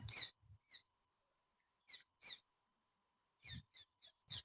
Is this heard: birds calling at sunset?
yes